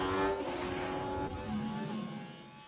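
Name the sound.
racing cars overtaking in video game F1 Manager 24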